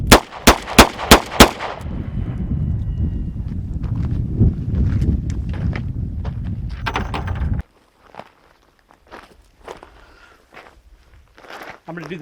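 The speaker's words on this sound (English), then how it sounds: "I'll move back to the front of the camera, draw, and fire 5 more rounds." Five loud, sharp gunshots in quick succession from a Smith & Wesson J-frame 642 revolver drawn from a pocket holster, followed by a long stretch of steady background rumble, then quiet with faint handling noises.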